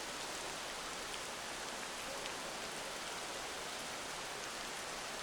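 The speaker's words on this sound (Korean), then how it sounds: "아침부터 하늘이 흐리더니 그새 비가 내린다." Steady rain falling along the coast of Iwate in northern Japan, a continuous even hiss of drops with no pauses, no voices and no other sounds.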